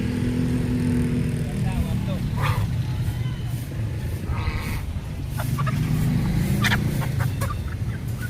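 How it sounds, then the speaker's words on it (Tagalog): Geese at a busy Angeles market honk and cackle amid the chatter of traders and shoppers, livestock calls rising in bursts over steady crowd noise and nearby voices. "Ayun, gansa."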